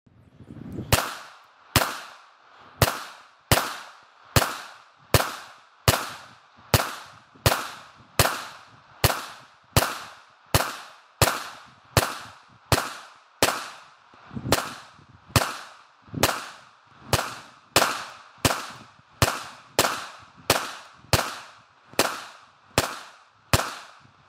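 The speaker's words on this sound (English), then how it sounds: "We're gonna shoot at it with 55 grain 223 until the liner fails." Rifle shots of 55 grain .223 hammer a steel plate backed with a duct tape spall liner, about thirty sharp cracks in a steady, evenly spaced series, loud with short decays and no talk.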